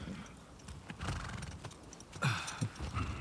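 A horse whinnies in the video game The Last of Us Part 2, a fairly quiet neigh with hoof clops over a hissy ambient background, fading in and out over a few seconds.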